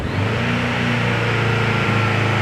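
A Honda CB1100RS motorcycle engine from 2017 revs steadily and loudly up close, a continuous droning hum with no pauses and no talking.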